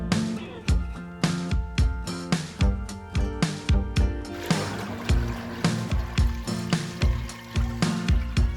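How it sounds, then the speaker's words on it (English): Soaked potatoes being washed in water while making fufu flour, a steady series of rhythmic sloshing and splashing strokes, close and fairly loud, with no talk. "I'm going to be washing the potatoes again, then I'll put in fresh water."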